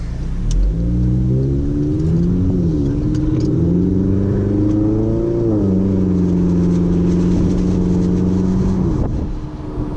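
A Stage 2 tuned 2016 Volkswagen Jetta 1.4T engine accelerates loudly, its pitch climbing through several gear changes with brief dips between, heard from inside the cabin.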